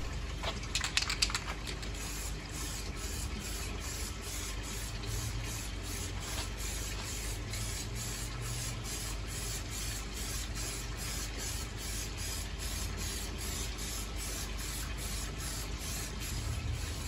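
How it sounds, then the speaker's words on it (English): Black spray paint hisses from a can onto the timber cladding of an aquaponics radial flow settler. It is a long, quiet, continuous spray with faint clicking and a low background hum. "gave it a nice coat with some black spray paint."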